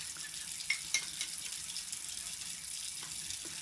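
Water trickling and splashing into a small batch of baking soda paste being mixed, a light, steady pour close by with a couple of soft drips standing out.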